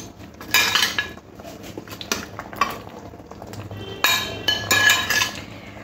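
A metal lid is set on a pot of fish curry, and utensils clank. Two bright bursts of metallic clinking and rattling stand out against a faint background sizzle, with no speech.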